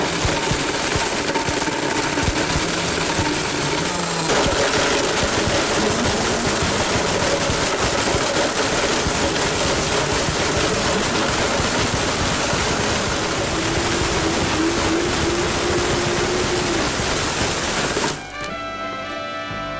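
A blender running on turbo while grinding up a Mario Kart steering-wheel remote gives a loud, steady, dense roar with a grinding rattle. It holds for about eighteen seconds, then cuts to a quieter, different texture at the end.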